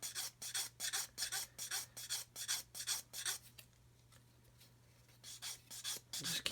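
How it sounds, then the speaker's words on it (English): Sanding a small plastic part from a 1/32 Kitty Hawk OV-10 Bronco scale model: about a dozen quick, rhythmic raspy strokes close up, then a brief pause, then a few more strokes over a steady low hum. "We're just going to sand this off."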